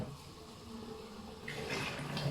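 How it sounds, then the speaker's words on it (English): Artesian bore water from Petone runs into a homebrew barrel, a steady soft rushing and splashing that gets louder and brighter partway through. "this is how we are going to fill our barrel with beautiful Petone"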